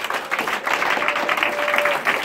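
Congregation applauding and cheering at a church deliverance service, a dense steady wash of many hands clapping with raised voices mixed in, loud and sustained throughout.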